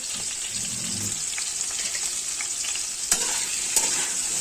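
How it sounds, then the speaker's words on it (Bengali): Oil sizzles steadily as food fries in a pan, a continuous bright hiss with a couple of soft clicks near the end. "আমি একটু ভেজে নিচ্ছি"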